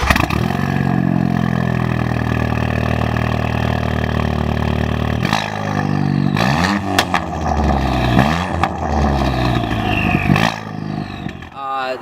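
A Ford Fiesta ST running a 3-inch MBRP turbo-back straight-pipe exhaust with no catalytic converter, muffler or resonator, a loud raw droning idle that rises into several rev blips, heard close and steady.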